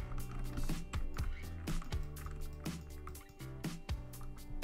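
Water effect from a Black Ops 3 mod, a sewer river, sounds as a quiet sequence of dripping, plopping liquid hits with a loose, uneven rhythm.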